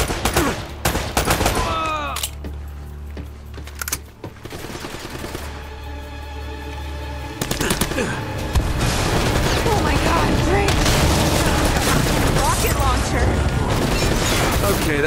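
Gunfire and impacts from the action game Uncharted, with bursts of shots, crashes and debris layered over a dense, busy game soundscape. Someone speaks at points in the clip.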